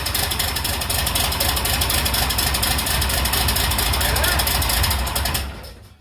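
Diesel engine from a Ford F350 DT360 swap running close by, a rough, steady clattering idle that cuts off abruptly near the end.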